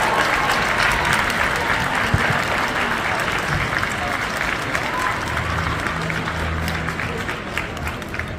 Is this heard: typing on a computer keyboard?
no